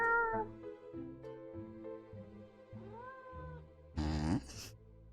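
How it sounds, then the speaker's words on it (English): A cat stuck on a wall in a puzzle video game meows in a run of short, pitched calls, one after another, then a louder, strained caterwaul near the end, with no talk over it. "I think there's a cat stuck on the wall"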